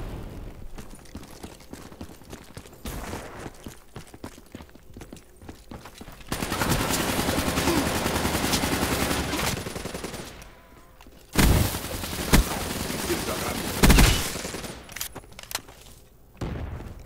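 Gunfire in Black Ops 3 team deathmatch: dense, sustained bursts of automatic weapon fire, with loud sharp shots standing out midway and near the end, over steady background game noise.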